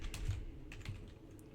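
Typing on a computer keyboard, a few soft, close key clicks spaced irregularly over a quiet background, with no talk.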